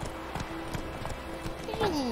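A horse's hooves clip-clop at a steady walking rhythm in The Witcher 3: Wild Hunt, soft and somewhat distant, with a brief whinny near the end and talk over the top.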